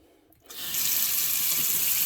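Water gushes from an RV faucet opened during winterizing with compressed air, starting abruptly after a brief quiet moment and then running as a loud, steady, hissing stream.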